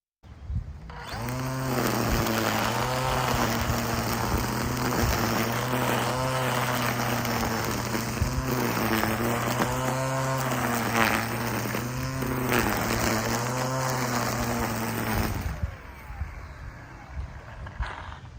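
Makita DUR193 cordless string trimmer cutting grass, a steady high-pitched motor whine with a strong buzzing hum that holds loud and close for about fifteen seconds before cutting off.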